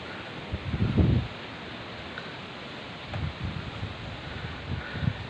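Strong stormy wind during extreme weather at Tanjung Flower, gusting in rough bursts of rustling and buffeting over a steady hiss, loudest near the start and again toward the end.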